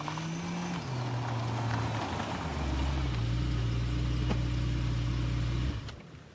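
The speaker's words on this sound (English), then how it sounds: "the whole car sounds that smooth. It sounds like it's barely running" A salvage BMW E92 M3 runs smoothly on the move, its steady engine drone shifting down in pitch in a couple of clean steps, then rising again before the sound cuts off and fades at the end.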